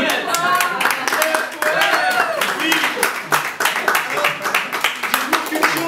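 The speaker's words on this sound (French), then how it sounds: "Oui, Jérôme, ça s'applaudit." Audience at a film preview screening claps in uneven bursts, fairly close and loud, while several people talk over and between the clapping.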